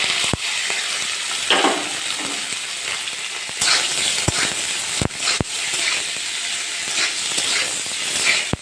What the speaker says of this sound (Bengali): পনিরগুলো ভেজে নেবো ভালো করে।